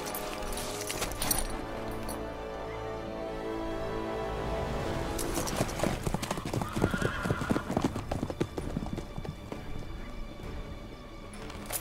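Horses' hooves clip-clop in a fast galloping rhythm, with a neigh and jingling tack over game music, in The Witcher 3: Wild Hunt.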